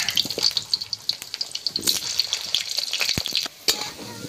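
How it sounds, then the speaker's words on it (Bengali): Potatoes frying in a pan: a continuous bright crackling sizzle with scattered pops and stirring scrapes, close and steady throughout, with a brief dip in the hiss near the end. "তো প্রথমে আলুটা ভেজে নেব।"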